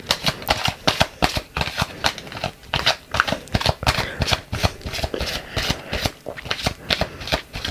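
A deck of playing cards being shuffled up close, a fast run of crisp riffling bursts and flicks repeating steadily without pause, with no voices.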